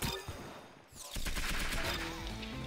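A gunshot in the shooting game Arsenal goes off amid dense game audio, with a burst of loud, continuous firing and clatter after a brief lull near the one-second mark.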